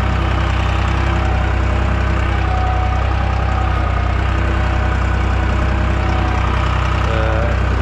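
A tractor drives between okra rows during field cultivation, its engine a loud, steady, close-up drone with a low rumble that runs without a break throughout.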